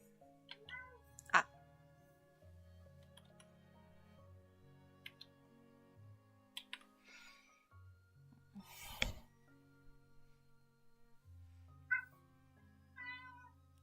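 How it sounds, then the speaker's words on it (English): A domestic cat meows a few times indoors, with short, fairly faint calls near the start and again near the end over a quiet background with scattered small noises. "That's my cat meowing as usual."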